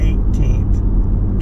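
A car drives a mountain road through light snow flurries, a loud steady low road rumble filling the interior, with a voice talking over it in short bursts.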